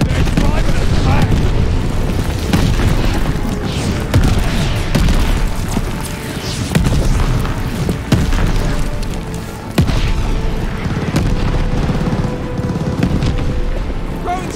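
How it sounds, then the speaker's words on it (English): Deep booming explosions from an enemy glide bomb in Call of Duty Vanguard during a Team Deathmatch match, rolling and repeated over dense battlefield gunfire and noise, with voices shouting throughout. "Enemy glide bomb coming in hot!"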